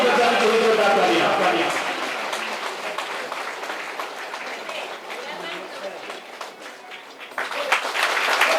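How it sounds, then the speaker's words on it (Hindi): Loud applause and clapping from an audience at a Hindi community event on de-addiction, welcoming a guest onto the stage. It rises strongly at the start, eases off to a steady patter, then swells again near the end. "जोरदार ताली बजानी चाहिए, जोरदार तालियां।"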